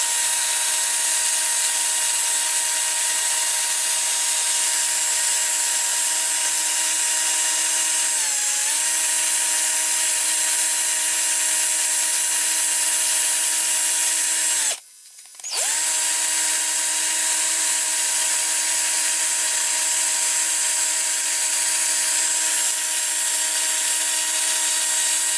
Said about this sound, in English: I'm going to clean these up on the drill now with the wheels